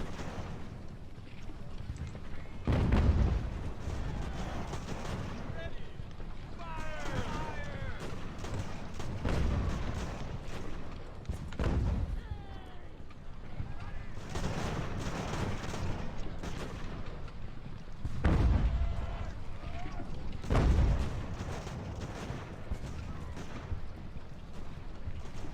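Naval and field guns booming in Ultimate Admiral: Age of Sail, heavy cannon blasts landing every few seconds over a steady battle din, with loud reports around 3, 10, 18 and 21 seconds.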